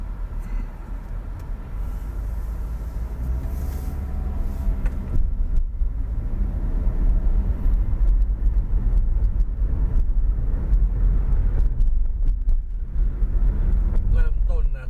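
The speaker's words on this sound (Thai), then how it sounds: "ช่วงนี้รถติดครับ เพราะว่าคนกำลังกลับบ้าน" Congested evening traffic on Mittraphap Road in Nakhon Ratchasima, a steady low rumble of idling and slowly moving cars and engines, with a few louder vehicles passing near, throughout the stretch.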